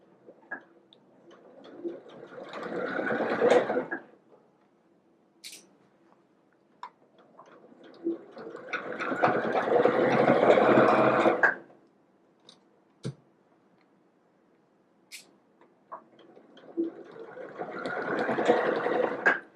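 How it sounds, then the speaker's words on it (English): A sewing machine stitches along the marked placket line of a dress in three separate bursts, each a few seconds long, close and steady, with quiet pauses between them and no voices. "So I'm going to sew directly on this line marking the placket box."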